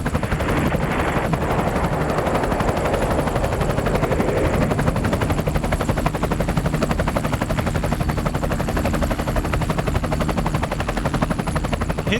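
An Apache attack helicopter flies past with a loud, steady rotor chop and engine roar that pulses evenly and never lets up, close and dominant, with no voices.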